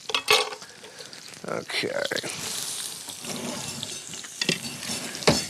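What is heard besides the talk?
sauteing in a pan until translucent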